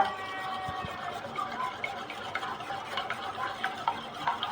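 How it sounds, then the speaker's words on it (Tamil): Six beaten eggs are whisked in a bowl for egg candy, a quick continuous rhythmic stirring and tapping heard close up with no voices. "நல்லா கலக்கிக்கலாம்."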